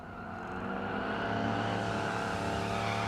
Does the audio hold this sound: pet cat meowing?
no